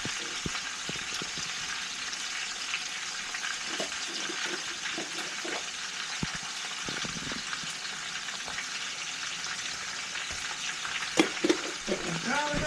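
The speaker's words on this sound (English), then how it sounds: "Put some garlic up in there." Minced garlic frying in a hot pan gives a constant loud hiss and sizzle, with scattered small taps and clicks of a utensil against the pan.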